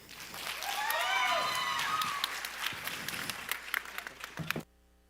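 Audience applause at a student talk night, clapping swelling quickly then tapering over several seconds with some voices mixed in, cutting off abruptly at the end.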